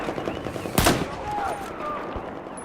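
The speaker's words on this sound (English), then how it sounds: "You'll notice that these guys didn't even notice I was shooting at them." Gunfire in a video game set on an exposed highway, a rapid burst of machine-gun fire over steady background noise, with faint whines and tones trailing off afterward.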